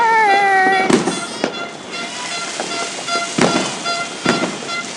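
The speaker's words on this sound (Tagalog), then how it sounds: "I can see fireworks." New Year fireworks pop and crack at intervals, several sharp bursts spaced a second or so apart, heard from a moderate distance over a steady background hiss.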